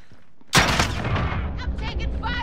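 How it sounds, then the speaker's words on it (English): Gunfire in a military video game opens with a sharp, loud shot after a half-second of quiet, followed by rattling bursts and echoing reports. A voice can be heard in the mix. "I'm taking fire."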